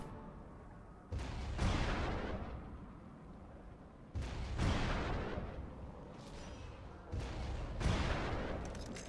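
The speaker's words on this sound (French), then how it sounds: "Et là, le canon Millennium." Millennium cannon fired in the game Giants: Citizen Kabuto, three heavy booming blasts spaced a few seconds apart, each a sharp onset followed by a long rumbling decay.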